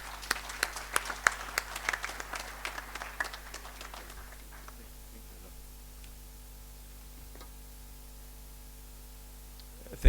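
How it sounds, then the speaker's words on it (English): Applause for a guest of honor, a visiting ambassador, at a Kenya diaspora homecoming conference: a burst of scattered claps that thins and fades after a few seconds, leaving a quiet room hum. "Let's give him a hand clap."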